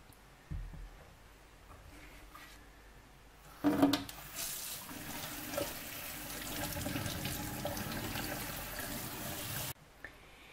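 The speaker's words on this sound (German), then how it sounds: "Und jetzt spüle ich die Schuhe unter klarem Wasser so lange aus" Tap water runs steadily over freshly dyed shoes being rinsed clean in a sink, a continuous close splashing rush lasting about six seconds after a few small knocks, with no talking.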